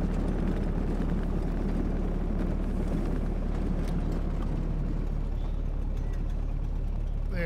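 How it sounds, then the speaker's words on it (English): A weak, sputtering junkyard truck engine in a video game runs steadily throughout, a low continuous idle-like drone with faint rattly texture and no voices. "This engine doesn't even sound like it's working."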